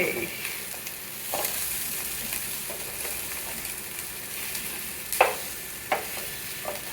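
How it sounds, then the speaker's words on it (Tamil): Colocasia (taro) pieces frying in a pan, a steady close sizzle broken by a few sharp clinks and scrapes as pieces are turned, with no talk. "பிரமாதமாக ஃப்ரை ஆகிருக்குது பாருங்க"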